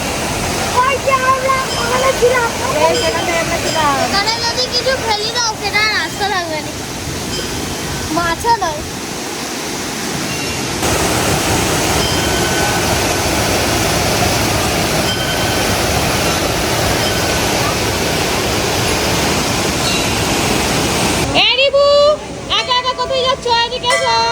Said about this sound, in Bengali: এই ঝর্ণাটা দেখতে এলাম জলের খুব সুন্দর জলের স্পিড দেখছিস